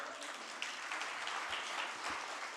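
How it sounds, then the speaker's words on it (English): Audience applause at a lecture series opening, a steady dense round of clapping that fills the short stretch at a fairly even level with no talk over it. "I wanted to give a big round of applause for"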